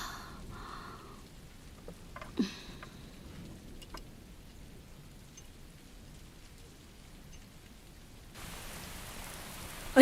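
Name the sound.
rain starting to fall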